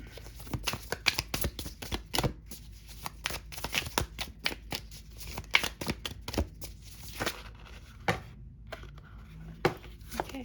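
Tarot cards being shuffled and pulled for a reading, with repeated crisp riffling bursts and sharp card snaps scattered irregularly throughout, close and clear, with no talking.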